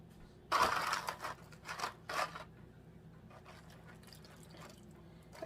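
Filtered water poured over food in a kitchen to soak, heard as a few short bursts of splashing, trickling pour spread over the first two seconds, then only a faint quiet background.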